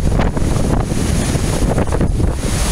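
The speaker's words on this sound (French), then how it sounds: "La belle petite cascade" A small waterfall of peat-coloured water in a little cirque pours with a continuous, rushing broadband roar, close to the microphone, with some wind buffeting and no speech.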